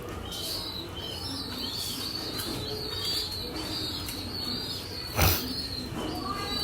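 Racing pigeons are released for a 35-kilometre race at Mawa. Faint cooing and chirps run under outdoor background noise, then a sharp burst of wing flaps comes near the end.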